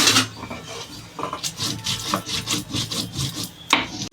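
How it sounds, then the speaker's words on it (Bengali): Spices are ground by hand on a grinding stone in a Bengali home kitchen, heard as close, rhythmic rasping strokes, roughly a dozen back-and-forth rubs with short pauses, with no talking. "আমার মশলাটা প্রায় বাটা হয়ে গেছে মশলাটা সুন্দর করে বেটে নেব"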